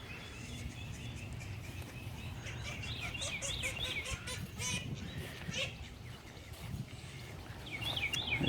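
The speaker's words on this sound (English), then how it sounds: "The chickens are all okay." Chickens in their coop after a storm, giving faint, scattered clucks and honking calls over a low, steady background rumble.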